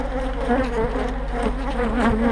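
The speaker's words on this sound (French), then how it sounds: "Bon, la ruche est un peu agitée quand même." Dense, loud buzzing from an agitated honeybee hive opened for inspection, continuous and close, rising and falling slightly without pause.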